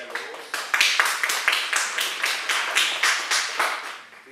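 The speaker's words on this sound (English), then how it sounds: "Please hold your applause" An audience claps at a District 1 candidate forum as the candidates are introduced: a steady, fairly loud run of crisp hand claps lasting about four seconds, then tapering off at the end.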